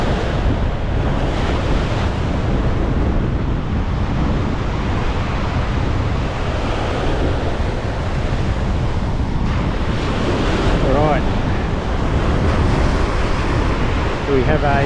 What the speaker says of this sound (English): I've walked about a kilometre along the beach to the only spot I can find where there's some breaking waves.